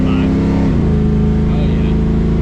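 A Chevy C10 with a big-block engine and an X-pipe exhaust rumbles loudly and continuously from inside the truck, a deep steady drone with a slight pitch drop early on. Voices talk over it.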